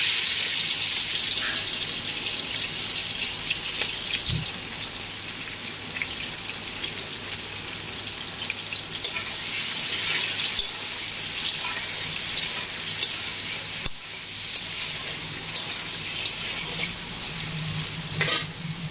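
Prawns go into hot oil for a Bengali prawn and yam dish, setting off a loud, close sizzle. It fades to a steady bubbling fry broken by scattered stirring clatters.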